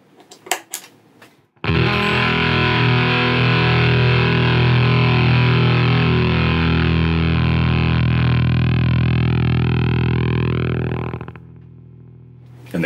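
An electric guitar run through a Zvex Fuzzolo fuzz pedal with its noise left in, playing one loud, thick distorted note that holds steady for about ten seconds, then drops away abruptly as the gate closes on the decaying tail.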